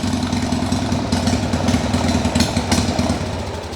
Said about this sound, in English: And when it warms up, it runs even better.